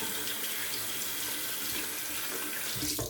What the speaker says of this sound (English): Let me just rinse off the bottom of the actual handle there